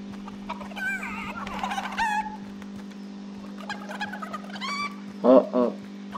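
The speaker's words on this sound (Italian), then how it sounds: "Una gallina. Gallina, ferma, ferma." A chicken in the video game Fortnite clucks in short bursts over a steady low game drone, louder near the end.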